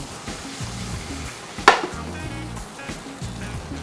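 Shellfish in their shells stir-fried in a pan with black pepper, a loud steady sizzle broken by rhythmic scraping and stirring strokes and one sharp metallic clank midway, no voices.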